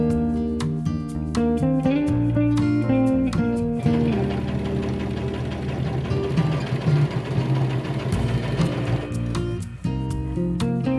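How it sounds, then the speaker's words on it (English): A sewing machine runs a straight stitch along a folded, pinned skirt hem. It starts in short stuttering bursts, then settles into a steady, fast, continuous whir close to the mic before slowing again. "I'm just going to fold it all down once, pin it, and then just do a straight stitch"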